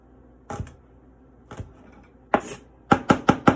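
A knife dices shallots on a cutting board in a series of sharp, close chops, first spaced out singly and then in a quick run of four at the end.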